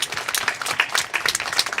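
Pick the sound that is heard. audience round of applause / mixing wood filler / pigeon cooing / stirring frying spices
audience round of applause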